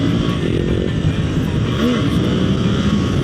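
Suzuki GSX-8R motorcycle in second gear with traction control off, accelerating hard for a wheelie: a loud, close, sustained engine roar filling the whole stretch without talk.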